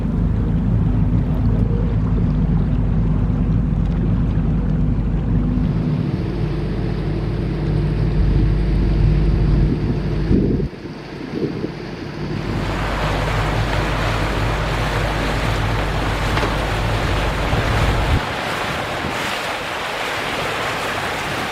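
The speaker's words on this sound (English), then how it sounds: "With a steam-powered toot, we're underway on a 90-minute cruise around the Saimaa Lakes region" The steamship Punkaharju cruises on Finland's Saimaa lakes, with a constant rush of water and wind buffeting over a low engine rumble; the sound briefly dips midway and returns brighter and noisier.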